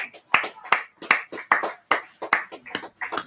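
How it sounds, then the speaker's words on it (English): Rhythmic hand clapping, about ten sharp claps in steady succession, close and fairly loud, sounding like a small group rather than a large crowd, a minute's applause at a football match. "There will now be a minute's applause"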